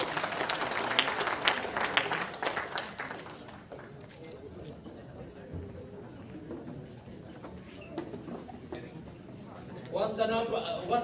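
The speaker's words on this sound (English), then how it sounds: "Can you give a hand clap?" A group audience at a church session claps hands, with a burst of scattered claps at first that fades to a murmur with talking, then a short renewed flurry of clapping at the end.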